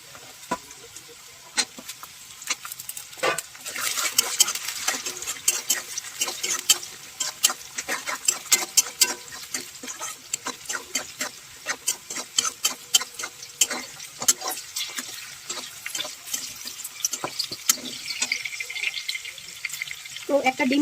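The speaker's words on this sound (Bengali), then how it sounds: "এবার আমি এই কড়াইশুঁটিগুলো দিয়ে দেবো" Green peas fry and sizzle in a hot wok while being stirred, a steady crackling hiss with frequent sharp pops and scraping clicks, close up and continuous, with no talk over it.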